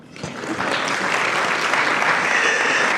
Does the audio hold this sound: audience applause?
yes